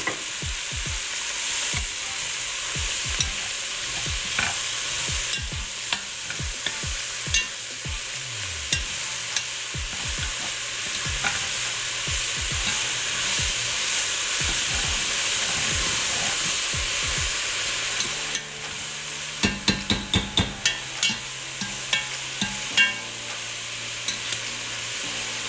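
Vegetables sweating down in olive oil at the start of a chicken stew, a steady close sizzle with frequent spoon knocks and scrapes against the pot, a busier clatter of stirring late on; no voices.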